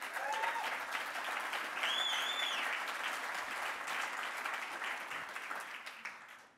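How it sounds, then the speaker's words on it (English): Audience applause at a business talk, dense and steady clapping from a large crowd heard from a distance, with a few faint whistles early on, sustained throughout and fading slightly at the end. "Can I please give them a big round of applause?"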